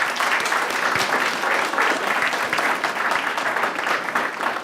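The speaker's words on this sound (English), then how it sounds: "Once again, let's give a round of applause to our students." Audience at a school governing board meeting applauds students, a steady, dense wash of clapping from many hands that holds at an even level throughout.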